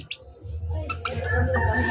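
Chickens cluck and squawk in short bursts close by, over a low steady rumble of background noise.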